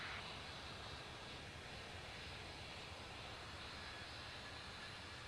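A jet airliner rolling for takeoff at LaGuardia in the air traffic control game Tower! Simulator 3, a steady broad engine roar held at constant loudness throughout, no voices.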